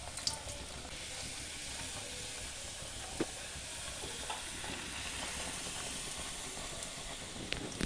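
Masala aloo puri made with carrot, potato and fenugreek leaves frying in hot oil in a kadai, a soft continuous sizzle and hiss with a few faint clinks, heard alone.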